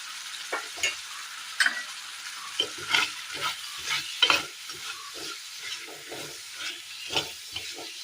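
A spoon stirs fish pieces with chili powder and ground fenugreek in a pan of Kerala-style curry masala, scraping and clinking in an irregular rhythm over a steady sizzling hiss.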